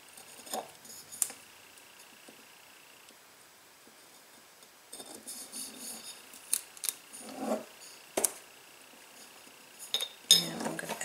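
Scissors snip washi tape flush with the edge of a homemade firefly jar: a few sparse, close cuts and light clinks, separated by quiet pauses, with no talking.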